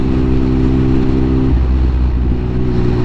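Triumph Speed Triple 1050 motorcycle ridden through city traffic in the UK, a loud close engine drone whose pitch shifts midway as the throttle changes, with traffic noise around it.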